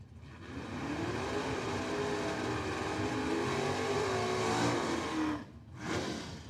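Drag racing cars launching down a quarter-mile strip, a sustained roaring engine drone heard from a distance that swells, then fades into a brief gap before a second rise.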